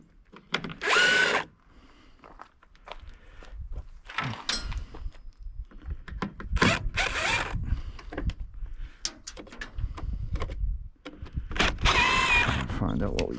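A power drill backing Phillips screws out of scrap metal for recycling, several short whirring bursts between pauses, with someone talking over and between them.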